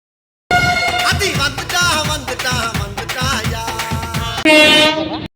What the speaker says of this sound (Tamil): நமக்கான ட்ரெயின் வந்தாச்சு